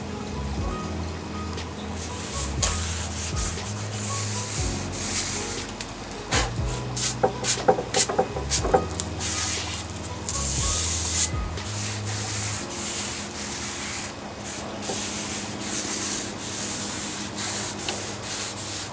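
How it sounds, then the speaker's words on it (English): A brush rubs wood stain onto oak stair treads in long, steady strokes, giving a continuous close scraping swish with a few sharper clicks partway through. No one speaks. "When applying the stain, make sure you use long strokes."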